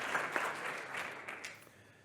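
Brief, moderately quiet applause from an audience at a health-tech startup pitch forum, a dense patter of clapping that fades out over a couple of seconds.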